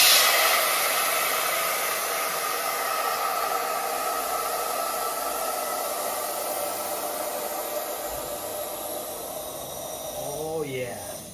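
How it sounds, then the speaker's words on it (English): Air hisses steadily out of the valve of a 2008 Kawasaki Concours 14 rear tire with the valve core removed, a loud, close, continuous rush that slowly fades over about ten seconds. "take the valve from the inside and remove the air."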